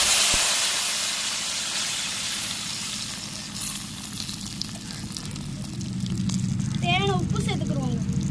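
Tamarind water poured into hot oil with mustard seeds, curry leaves and dried chillies for puli rasam gives a loud, steady hiss and sizzle that swells near the end, with a brief squeak on top.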